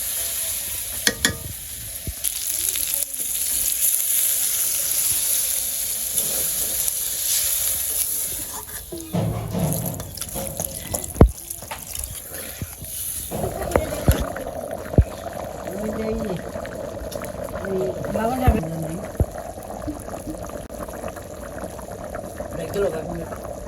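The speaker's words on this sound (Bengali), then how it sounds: "আমি জল দিয়ে দিব।" Village-style spicy chicken curry sizzles and fries in a pan, then water is poured in, changing the steady hiss to a bubbling, liquid sound, with scraping stirs and talk over the cooking.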